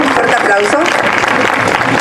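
An outdoor crowd at a public art event in Mexico City applauds loudly and steadily, a dense continuous wash of clapping with voices mixed in throughout.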